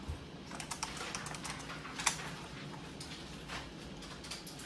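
Computer keyboard keys clatter in quick, uneven bursts while accounting software is used, each tap crisp and close, with one sharper stroke partway through and no talking.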